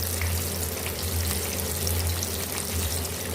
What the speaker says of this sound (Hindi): अब इसको हम दूसरी साइड से फ्राई कर लेंगे।